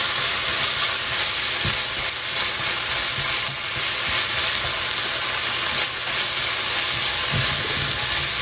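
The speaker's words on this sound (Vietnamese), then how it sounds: "Xào lên." Beef and noodles stir-fry in a hot pan, seasoned with a little powdered stock, giving a loud, steady sizzle and hiss all the way through, with faint scraping stirs now and then.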